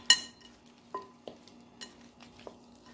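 A spoon scrapes and clinks in a bowl while seasoning is worked into raw chicken, a few separate soft knocks and scrapes at an uneven pace, close up and quiet, with no talking.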